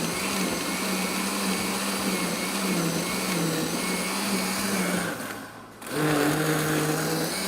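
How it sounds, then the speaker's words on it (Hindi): A kitchen blender grinds a semolina mixture with a steady loud motor whine, briefly stopping near the end before starting again at full speed. "फिर दोबारा पीसना शुरू कर दिया"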